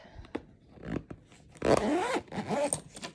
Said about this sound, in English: I usually just slip this in here and zip it up